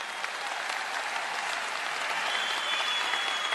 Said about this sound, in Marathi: आपलं सगळ्यांचं समर्थन असेल तर जोरदार टाळ्या वाजवा